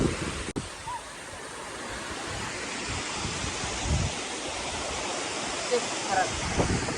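A large village waterfall running with plenty of water, a loud continuous broadband roar with wind buffeting the microphone, steady throughout with no clear speech.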